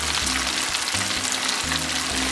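Chicken wings deep-fry in hot oil, a loud, continuous hissing crackle close by, steady throughout with low background tones underneath and no talking.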